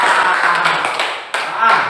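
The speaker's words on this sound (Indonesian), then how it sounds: "Tepuk tangan untuk kelompok 1" A school class claps for a student group, with close, loud, uneven claps and taps that blend with murmuring voices and room noise, ending with a sudden sharp hit.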